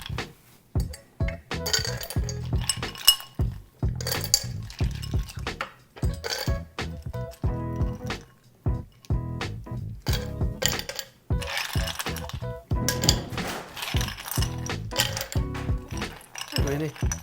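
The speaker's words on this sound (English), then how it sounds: "we're going to fill up this ice container" Ice cubes tumble and clink into a cold brew coffee container in repeated rattling bursts, loud and close, with a person talking between pours.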